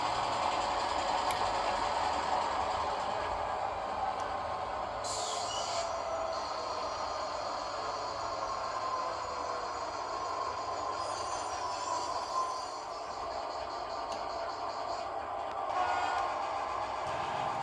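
A steady low mechanical hum and rumble of a model railroad locomotive pulling ahead to clear a switch, running continuously, faint and even, with occasional higher whirring.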